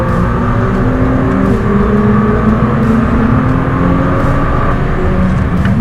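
A car drifts on a track during a run between a Ford Fiesta ST and a 550bhp Nissan GT-R, its engine revving loud and close in a continuous roar with slight rises in pitch.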